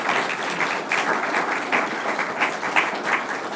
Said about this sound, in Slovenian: Najprej predlagam, da zaploskamo Perin Šmarčan za tole